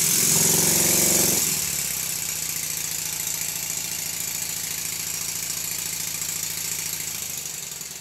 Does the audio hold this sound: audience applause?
no